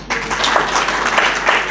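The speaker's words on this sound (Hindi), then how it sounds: "पहले सब अपने लिए एक तालियां बजा लें" Brief, loud burst of audience members applauding themselves at an astrology gathering, a dense, even clatter of many hands clapping nearby.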